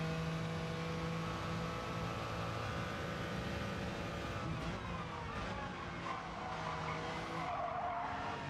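Car sliding in the Gran Turismo 7 racing game during a Suzuki race event, a continuous engine drone with a faint tire skid and squeal rising over several seconds.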